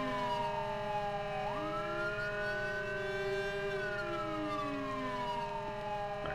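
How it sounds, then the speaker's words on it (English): A police siren in GTA 5 with the LSPDFR mod wails continuously, its tone sliding up and down over a steady electronic hum, loud and close with no voices. "I'm just going to turn off my siren."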